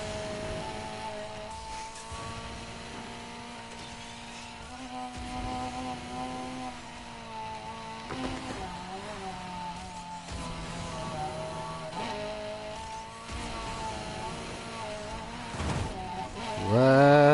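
A car in the Need for Speed Heat racing game drives on with a steady engine drone whose pitch shifts as it accelerates and shifts gears, rising sharply near the end, with faint background talk.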